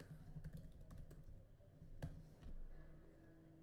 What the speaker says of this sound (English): let me just quickly type in